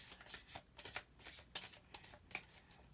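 A deck of tarot cards is shuffled up close, a quick run of soft riffling bursts that repeat about every half second, each brief and quiet, with no voices.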